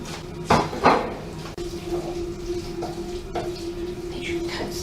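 A metal spoon scrapes and clatters against a pan as mince is stirred with tomato puree and thyme, two sharper knocks early on followed by steady soft scraping and a low background hum.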